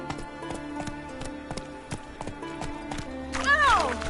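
Clip-clop of the horse Roach galloping in the fantasy game The Witcher 3, a rapid, rhythmic patter of hooves up close, ending with a sharp whinny; a voice speaks briefly over it.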